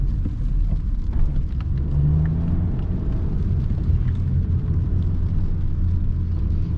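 A Passat climbing a bend on a winding mountain road with its front wheels spinning for grip, heard from inside the car as a steady, loud low engine and road rumble with no talking.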